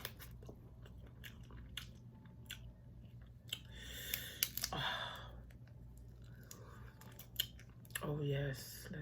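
Seafood being eaten piece by piece in a quiet mukbang, with soft bites and wet chewing at close range, a few sharper crunches around the middle, and a brief murmur near the end.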